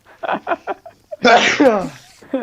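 A single loud, close sneeze bursts out after some muffled speech-like sounds, followed by more voice at the end, during a casual gaming session.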